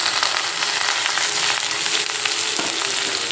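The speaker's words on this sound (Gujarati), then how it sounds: "સૌથી પહેલાં આપણે કોબી બટેટા નાખીશું" Cabbage and potatoes tossed into hot oil tempered with cumin, asafoetida and turmeric, giving a dense, steady sizzle with faint stirring scrapes, close and continuous.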